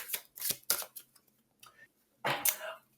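Oracle cards are shuffled by hand in a few quick riffling bursts separated by short pauses, close and crisp, the last burst longer.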